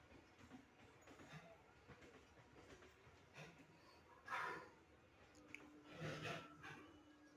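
A local train passes through dense fog near a level crossing, its faint rumble and rail noise rising and falling, with heavier swells near the end.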